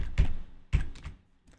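A terminal command is typed on a computer keyboard. Two short bursts of keystrokes come up close and fairly loud, with a few fainter taps trailing after. No one speaks.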